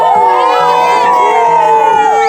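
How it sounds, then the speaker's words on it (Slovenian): A group of campers at a summer survival camp let out a loud, sustained victory shout, with many voices yelling and whooping together in a continuous high-pitched burst. "Prva skupina, kaj pa zmagovalni krik?"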